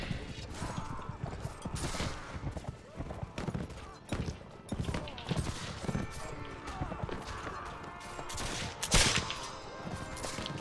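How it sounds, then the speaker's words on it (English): Musket volleys fire in a Mount & Blade: With Fire & Sword battle. Sharp gunshot cracks scatter through a busy, noisy battlefield mix, and one loud blast stands out near the end. Voices are faintly present in the background. "Load the weapon, Karl, and don't get shot"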